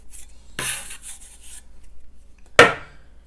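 A floured bench scraper slices through a rope of ricotta gnocchi dough on a work surface: a soft scraping rasp at first, then a sharper single cut a couple of seconds later, close and alone.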